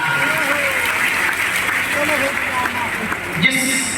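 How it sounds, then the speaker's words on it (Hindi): Applause from the audience at a large Hanuman Katha religious gathering in Panchkula, a steady dense clatter of many hands that fills the whole stretch, with a loudspeaker voice carrying over it. "एक बार जोरदार ताली बजा करके उनको धन्यवाद"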